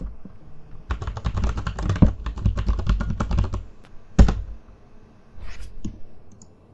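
Bursts of computer keyboard typing and mouse clicks while setting up a FiveM account, close and fairly loud, in several quick runs with a sharp click near the end and short pauses between.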